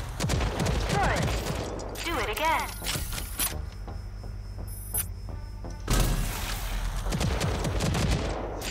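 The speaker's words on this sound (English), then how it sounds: "the smart rocket launcher can lock onto a target and fire multiple small homing rockets" RAGE 2 smart rocket launcher locking on and firing volleys of small homing rockets: rapid bursts of percussive launches and blasts, separated by a mechanical pause, with voices talking over the action.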